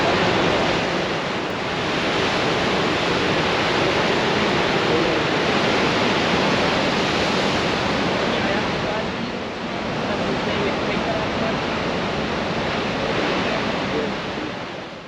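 Huge winter ocean waves, about 35 to 40 feet high, break at Nazaré, Portugal, making a continuous, steady roar of surf and wind that fills the whole stretch with only slight swells in loudness.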